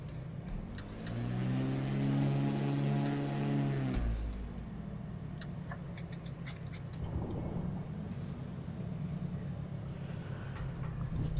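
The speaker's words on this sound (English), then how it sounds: "Okay, engines are running." Twin piston engines of a Baron B58 running in the X-Plane flight simulator, a steady droning hum with harmonic tones that settle from a higher rev to a lower, rougher idle about midway, continuous and close.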